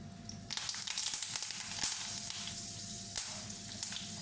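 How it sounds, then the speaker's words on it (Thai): Ginger, dried chili and kaffir lime leaves frying in hot oil, a continuous crackling sizzle with sharp spattering bursts and occasional stirring knocks, close and fairly loud. "จากนั้นก็นำขิงลงไปทอด พริกแห้งใบมะกรูด ต่างๆนะคะ เราก็นำไปทอด"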